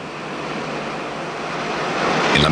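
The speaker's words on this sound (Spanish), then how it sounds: "cerca de la orilla, las olas avanzan juntas, y al margen de su longitud, todas las olas disminuyen su velocidad a medida que se acercan a tierra." Ocean waves roll in toward the shore in a steady broadband wash that swells slightly louder near the end, with no voices present.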